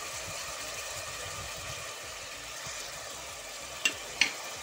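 A masala of yogurt, dried coriander and turmeric fries and is stirred in a pan for aloo keema. A soft continuous sizzle plays with low scraping stirs, followed by two sharp clinks near the end.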